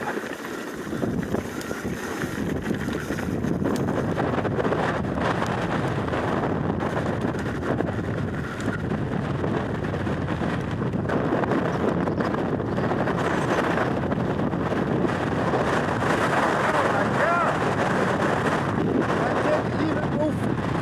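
Steady, strong wind roars and buffets a boat at sea off Madeira, a continuous close rush of gusty noise with water and hull sounds mixed in, never easing across the stretch.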